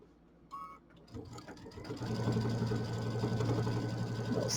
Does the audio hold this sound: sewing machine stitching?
yes